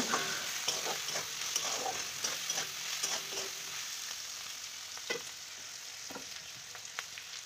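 Vegetables with salt, chili powder and turmeric fry in oil with a steady soft sizzle and occasional stirring scrapes, close but fairly quiet, with no voices.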